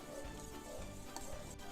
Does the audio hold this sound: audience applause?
no